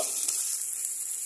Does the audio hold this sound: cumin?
yes